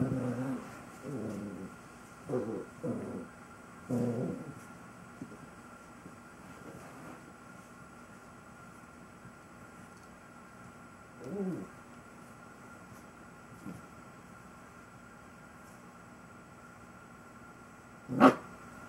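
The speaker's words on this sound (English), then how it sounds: "Where's that Toby puppy?" A puppy plays tug, giving several short growls and barks early on, then scattered faint yips and a sharp bark near the end over a quiet background hum.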